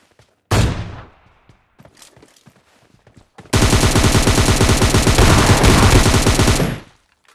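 Gunfire in a mobile battle royale game: a single loud shot, scattered faint clicks, then a long, dense burst of rapid automatic fire lasting several seconds, close and loud.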